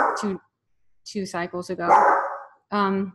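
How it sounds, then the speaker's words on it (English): A house dog barks several times in sharp, close bursts, with yips and a whine mixed in. A person talks around the barking. "Hold on, that's my dog."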